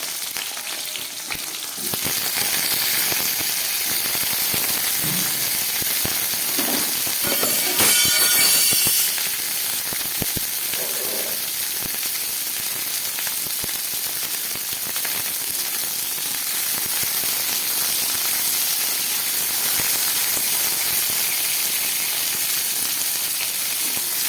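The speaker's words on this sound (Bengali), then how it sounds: "এই তেলের মধ্যে আমি সমস্ত সবজিগুলোকে একটু ভেজে নিচ্ছি।" Vegetables, starting with capsicum, sizzle steadily in hot oil in a home kitchen, a continuous close frying hiss with occasional stirring clatter and a brief burst of sharper crackle partway through.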